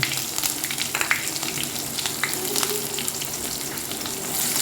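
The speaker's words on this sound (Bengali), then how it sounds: "পেঁয়াজটা ভাজা ভাজা হোক," Onion frying in hot oil in a pan after tempering spices, for dal, a continuous close sizzle with crackling pops and occasional light stirring scrapes.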